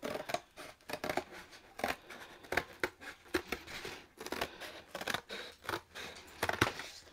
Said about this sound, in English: with my scissors that I don't use for fabric